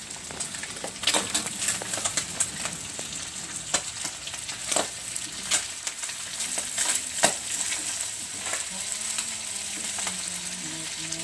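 Fish fries in hot oil with a steady, hissing sizzle broken by frequent sharp crackles and spattering pops, close by and fairly loud, with no talking over it.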